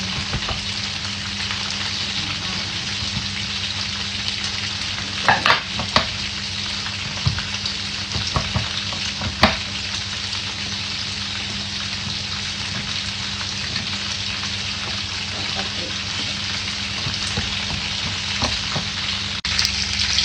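Spring rolls fry in hot oil with a steady, dense sizzle and crackle throughout, plus a few louder pops and spatters. No voices are heard.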